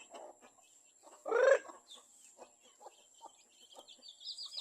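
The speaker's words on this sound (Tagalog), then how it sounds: "ito rin yung ibang native chicken ko, mga boss" Native chickens cluck softly and sporadically close by. One louder, rising cluck-call stands out, and faint bird chirps sound in the background.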